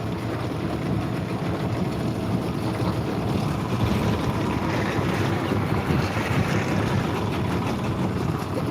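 Steady wind buffets a fishing boat out on open water on a Saturday night, a continuous rushing roar with gusty surges and a faint wash of waves underneath, and no voices.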